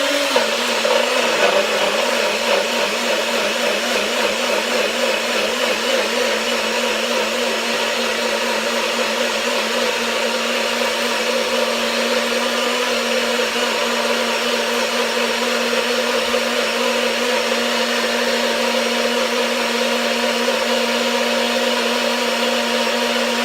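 A blender motor runs steadily on fruit and spring water, a continuous loud whir with a constant hum that holds from start to finish without pause.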